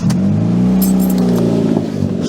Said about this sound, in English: It's got the obnoxiously loud straight piped exhaust.